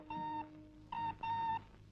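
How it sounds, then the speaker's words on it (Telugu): Telephone ringing in a Telugu comedy film scene: three clear electronic rings in quick succession, the second a short double pulse, fairly close and unaccompanied by speech. "రంగమ్మా, ఫోన్ తీసుకురా."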